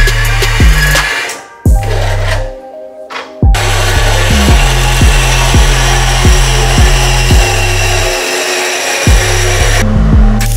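A loud power tool cuts a stainless steel pipe for a Toyota pickup with a 3.4 engine swap, whirring in short bursts with two brief stops, then running long and steady before one last pause near the end.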